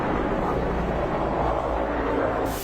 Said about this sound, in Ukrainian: Це вертольоти, це ще не дуже голосно.